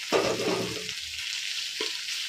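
Green chili paste and ginger-garlic paste fry in oil while being stirred, making a short, quiet sizzle with a brief stirring scrape near the start and another near the end.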